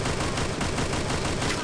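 Dense, continuous gunfire from a Free Fire battle royale match, loud and unbroken with overlapping rapid shots blurring into a constant roar.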